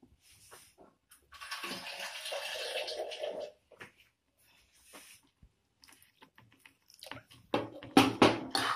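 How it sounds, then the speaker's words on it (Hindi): Water pours into a pan of mixed vegetables for a Punjabi-style winter sabzi, a close splashing stream that runs for a couple of seconds, followed by quieter clatter and a louder sizzling, stirring burst near the end. "Now add little water."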